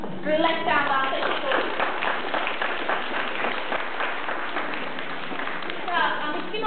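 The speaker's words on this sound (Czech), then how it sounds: "tleskám vám se" Hands clapping in a steady, fairly quick rhythm during a children's group activity, with a voice talking and chanting over the claps most of the time.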